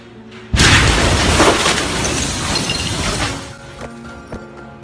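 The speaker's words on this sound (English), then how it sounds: "The explosion was caught on camera 11 kilometers away in the Dabia Marina." The Beirut port explosion captured from about 11 kilometres away at a marina: a sudden sharp boom and crack that jumps to full loudness, then a long rolling rumble that slowly fades over several seconds.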